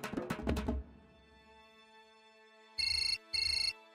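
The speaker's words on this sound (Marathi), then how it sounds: "फोन आलाय." A mobile phone ringtone plays two short bright melodic bursts with a pause between, following a brief louder musical sting that fades out.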